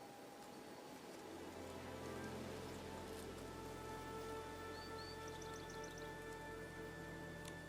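Steady rain falls in the Infinity Nikki game world as a soft, even hiss of drops. It stays faint and continuous throughout, with no talking.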